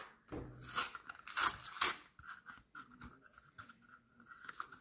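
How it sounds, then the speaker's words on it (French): Packaging for a new SSD drive being torn open and unwrapped, with ripping and crinkling bursts in the first two seconds, then quieter rustling handling close by. "Ça c'est le nouveau disque dur SSD que je vais déballer tout de suite."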